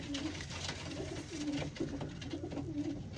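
Racing pigeon cooing in repeated low, throaty phrases, close and fairly loud, with a busy background of other birds and noise.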